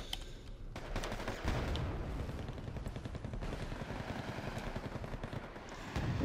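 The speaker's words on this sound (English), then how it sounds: "riflemen helping out just a wee bit with their miniguns" Miniguns from riflemen lay down suppressive fire in Wargame Red Dragon, a rapid and dense rattle of automatic bursts over a rumbling battlefield. It runs loud and nearly continuous, with heavier booms at the start and the end.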